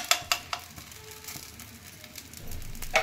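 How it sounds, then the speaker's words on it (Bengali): Atta flatbread snacks fry in ghee in a pan with a soft steady sizzle, broken by a few sharp clinks of utensils at the start and end, close and moderately quiet. "আমি ঘি দিয়ে ভেজে নিচ্ছি এগুলো"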